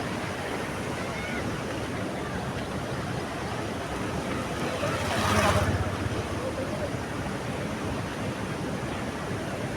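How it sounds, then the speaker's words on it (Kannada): Water flowing beneath a village bridge over a stream, a steady broadband rush that holds constant throughout, swelling slightly for a moment near the middle with no voices. "ಈ ಬ್ರಿಡ್ಜ್ ಕೆಳಗಡೆ ನೀರನ್ನು ಹರಿತವೆ"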